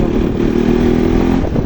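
A Bajaj Pulsar NS200 motorcycle on a friends' ride up a mountain road to Pumdikot, its engine a loud, close, continuous drone with rushing wind noise.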